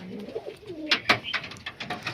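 Pigeons coo in a home loft where breeding pairs sit on eggs, a run of soft low burbling coos followed by several brief louder calls and flutters, close and fairly faint, with no talking.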